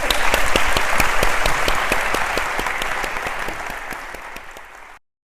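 An audience breaks into sustained clapping to welcome a conference speaker, Prof. Manuel Almeida, the applause loud and dense at first, then slowly thinning before cutting off.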